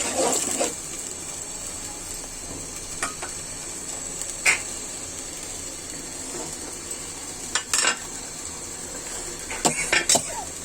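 Beef chilli cooking in a pan: a constant bright sizzle runs throughout, with a handful of sharp utensil scrapes and clinks from stirring, close by, and a faint voice now and then.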